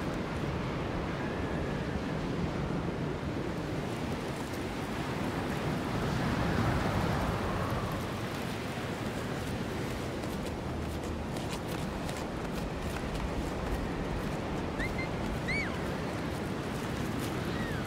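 Wind blowing steadily in the video game Jusant, a constant airy rushing roar filling the whole stretch, with small chirping sounds appearing faintly near the end.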